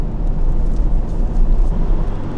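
Toyota Aqua hybrid with E-Four all-wheel drive and a three-cylinder engine, driving on snowy roads toward Muroran; a steady low engine and road drone with constant cabin rumble, continuous and fairly loud.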